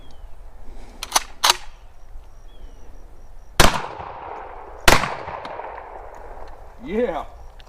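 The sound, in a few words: gunshots fired into plywood and sheetrock wall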